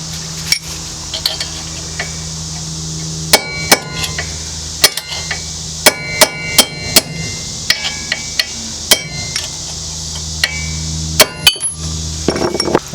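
Sharp metallic strikes ring out at irregular intervals, a hammer hitting a steel punch to drive out a stuck bolt during a car lower control arm replacement, some in quick pairs, over a low background hum.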